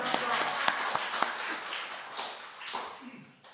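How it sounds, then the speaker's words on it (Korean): A church congregation at a Sunday service claps in a quick, uneven burst of sharp claps that fades out. "아버지 감사합니다. 박수."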